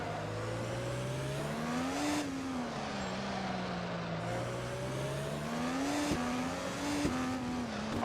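IndyCar IR18 race cars howl in the Automobilista racing game at the Sao Paulo circuit, a loud continuous engine whine that rises and falls through gear changes, with sharp upshift clicks near the end.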